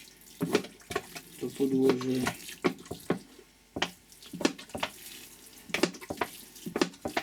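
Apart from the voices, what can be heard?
water pouring while watering seed trays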